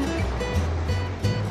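A hovercraft travels over water on its cushion of air, producing a loud, steady rushing roar with a low rumbling drone throughout.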